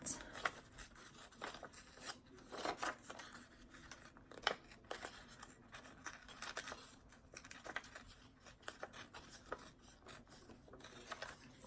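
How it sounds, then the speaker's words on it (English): Folded paper torn by hand along its creases for a junk journal, soft raspy rips and rustling in irregular bursts, quiet and close. "I know where, pretty much where to kind of rip it at."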